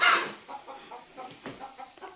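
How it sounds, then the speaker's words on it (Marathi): A hen clucks close by after laying an egg, a loud opening squawk followed by a steady series of short rhythmic clucks. "कोंबडीला बसवलं असेल बघा तिने अंड कसं घातलं"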